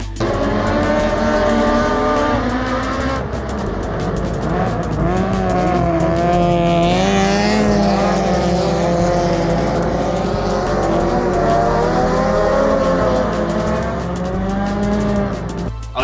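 Hot rod race cars and 2.1 Modifieds howl around an oval track in South Africa, several engines droning and rising together in a continuous loud roar with shifting pitches, no talk.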